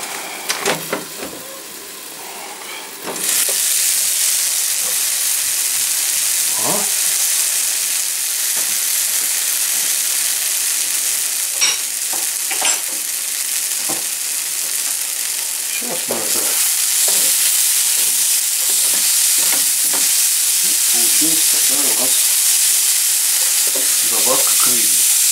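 Trout fries in a pan. A low hiss jumps to a loud, sustained sizzle after a few seconds, with scattered pops and utensil knocks running through it, steady and close.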